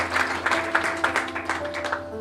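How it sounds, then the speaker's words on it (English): Wedding guests clap in a ceremony hall, a dense round of applause with scattered louder claps, steady and fairly close throughout, over a faint background hum. "I think they deserve a wonderful round of applause for that."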